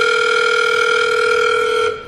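Steady electronic telephone tone, a continuous ringing signal on an outgoing call waiting to be answered, loud and unbroken for about two seconds before cutting off.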